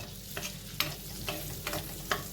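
Chopped spring onion sautés in butter in a pan, a quiet, steady sizzle broken by regular stirring scrapes about every half second, heard alone without voices.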